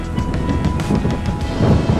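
Wind at Mount Rainier buffets the microphone in continuous low rumbling gusts, loud and close, with no voices.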